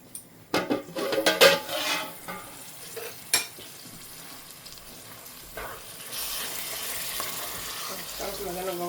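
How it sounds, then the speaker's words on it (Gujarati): A tempering for hilsa fish curry sizzles in a pan, starting with several loud clanks and scrapes of a utensil against metal, then settling into a steady, moderate frying hiss close by. "સરસ મજાનો વઘાર પાકી ગયો છે."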